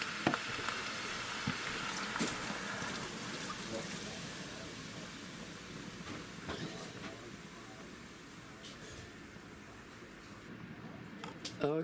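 Beef brisket sizzles in an Instant Pot on saute, a steady broadband frying hiss running throughout with occasional pops and clicks, fairly quiet and continuous.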